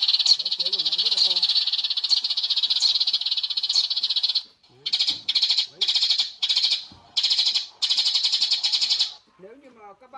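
A recorded sparrow call played from a bird-trap speaker: rapid, bright repeated chirping, continuous at first, then in short separated bursts, loud and close with no other sound.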